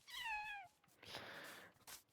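A Minecraft cat gives a single clear, rising-and-falling meow up close, followed by soft rustling and brief game noises with no talking.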